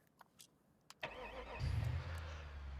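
In the BeamNG.Drive racing game, a few faint clicks come first, then a Ford Crown Victoria engine fires up and settles into a steady, close, low idle rumble.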